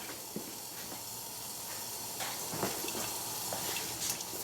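A pot of water at a rolling boil on a small stainless steel wood gas camping stove gives off a steady, close hiss of steam, with faint bubbling ticks scattered through it and no talking.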